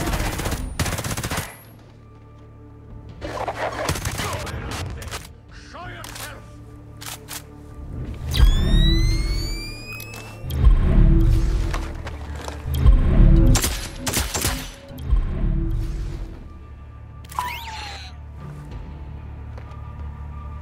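Automatic and single-shot gunfire in the tactical shooter Ghost Recon Breakpoint, loud bursts and sharp cracks with deep booming impacts spread across the scene, alternating with brief lulls and occasional whooshing effects.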